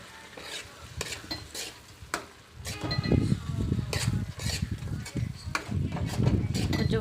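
Curry leaves and coriander fry in a pan for a paneer curry, giving a loud sizzle with repeated scraping and stirring of a spoon against the metal.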